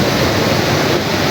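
Water rushing through the channel of a traditional village water mill (panchakki) used for grinding maize flour, a loud, steady broadband roar with no pauses, close to the listener.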